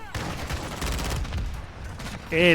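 Rapid bursts of fire from an ISO 9mm submachine gun in a video game, loud and close, with someone talking over much of it.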